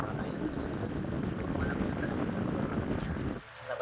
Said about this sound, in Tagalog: Grabe ang lakas ng ikot niya.